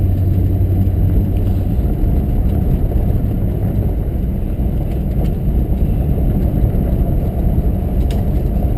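A 1956 Packard rolls along a gravel road through woods, its steady low engine rumble and tyre crunch forming a continuous, close, even drone with no talk.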